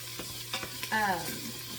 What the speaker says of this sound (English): we start off by using the sear setting and browning some of this bratwurst